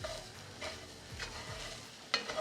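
Chunks of beef and sausage are stirred in a pot for lasagna soup. There is a soft, steady sizzle with several scraping stirs and a sharper clink of the spoon near the end, fairly quiet and without talk.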